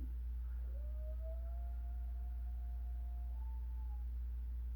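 A dog howls in one long, drawn-out wavering tone, fairly faint over a steady low hum, with no one speaking.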